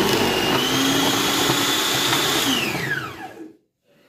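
Carrots grated for gajar ka halwa, heard as a loud, steady mechanical motor whine that slows, drops in pitch and cuts out near the end, with no voices.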